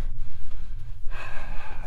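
Heavy, labored breathing during a hike in Death Valley, close to the microphone, with quick rhythmic gasping inhales and exhales and no speech.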